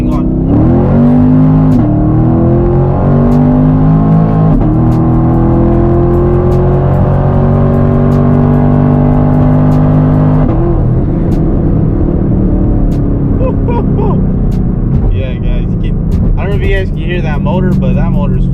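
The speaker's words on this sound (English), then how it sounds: "that motor is fucking just eating it, eating that E85, man" A car engine running on E85 fuel revs hard through a full-throttle pull. The droning roar is loud and close, rising in pitch, dropping, then climbing again, and excited voices come in over it near the end.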